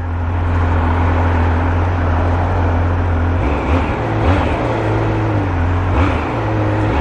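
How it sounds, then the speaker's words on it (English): A Triumph Speed Triple 1200 RS motorcycle runs with a muted exhaust, a steady low engine drone with slight rises in pitch while riding, loud and continuous with no talking. "Quite a muted sound from the exhaust."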